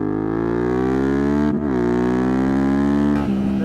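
A Yamaha T7 motorcycle cruises along a road, its engine holding a loud, steady harmonic drone close to the listener, with brief dips in tone around the middle and near the end.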